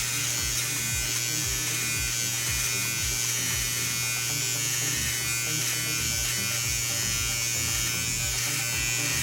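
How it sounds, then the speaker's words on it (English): Electric clippers buzz steadily and close while trimming down a beard, a continuous motor hum with faint rhythmic pulses and no talk. "I gotta be careful with these clippers because this one actually slips off"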